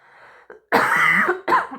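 A person coughs twice sharply up close, a harsh throaty cough after a quieter raspy breath.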